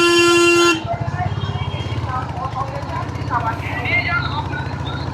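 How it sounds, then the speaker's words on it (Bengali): A vehicle horn sounds loud and steady for under a second while riding through a busy market on a motorcycle, followed by engine rumble and street noise with voices in the background. "এদের কি হর্ন দিলেও শোনে না।"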